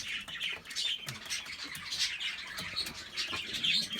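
Hünkari pigeons at the nest, as males drive their hens toward it, give soft, scattered squawks and calls over a faint, busy loft background.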